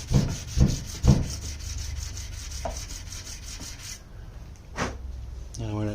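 Sandpaper rasps over the wood of a handmade mandocello in several quick rubbing strokes, close and scratchy, then a few softer scrapes with pauses.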